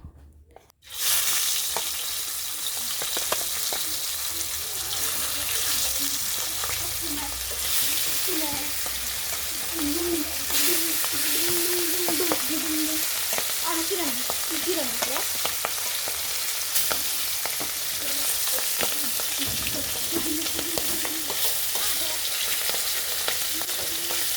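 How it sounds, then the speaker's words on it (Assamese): Kos fish frying in hot oil in a pan, a steady loud sizzle and crackle running throughout with occasional bubbling pops and a brief stir near the start. "আৰু এইখিনি তেলতে মই এতিয়া বাকী মাছখিনি ফ্ৰাই কৰি ল'ম"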